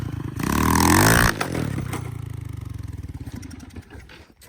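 Yamaha YZ125 two-stroke dirt bike revving loudly up close, a sustained high rev for about a second then dropping to a rough, pulsing idle-like putter with some clattering.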